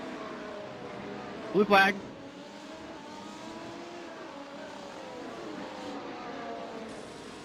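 Race cars overtaking in the iRacing sim, a steady engine drone with shifting pitch running throughout, and a short radio call cutting in near the start.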